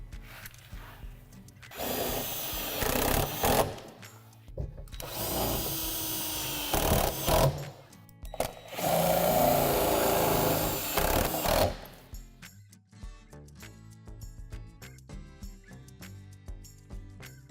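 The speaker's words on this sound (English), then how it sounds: "secure through the divots with the self-tapping screw" A power drill drives self-tapping screws through the divots of a Lifetime plastic playhouse wall panel, with three loud, sustained whirring bursts separated by short gaps, close up, then quieter handling noise afterward.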